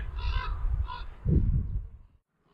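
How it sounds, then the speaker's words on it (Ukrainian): Several crows caw loudly and harshly close by near their nest, overlapping calls filling a couple of seconds before stopping. "подивись, скільки ворон!"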